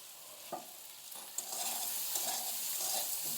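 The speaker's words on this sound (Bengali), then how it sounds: "দিয়ে ভালো করে একটু মিলিয়ে নিয়ে ভেজে নেব। একটু ভালো করে নেড়ে চেড়ে দিচ্ছি।" Komli greens with salt and turmeric are stirred and fried in a pan, giving a soft continuous sizzle with a few scraping knocks of the spatula, close and without talk.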